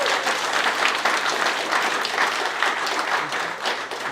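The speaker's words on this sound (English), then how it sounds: "So give a round of applause to Team 9." Audience applause for the winners of a smart city hackathon, a dense, even round of clapping from a sizable crowd lasting several seconds without talk.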